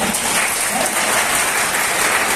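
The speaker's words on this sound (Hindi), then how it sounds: "सर के लिए जोरदार तालियां" Loud, dense applause from an audience at an MI Lifestyle event, a steady wash of clapping hands filling the whole stretch without pause or speech.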